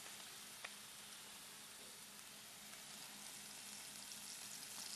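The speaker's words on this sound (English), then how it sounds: "Ooh, hear it sizzle" Meat sears in a hot pan at Saskatoon Lodge, giving a steady, soft, continuous sizzle and crackle with no talking over it.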